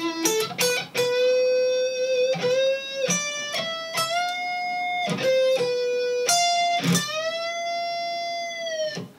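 Out-of-tune electric guitar string bends, sliding slightly sharp or flat of pitch, played one after another with sharp plucked attacks and sustained wavering tones, no voices.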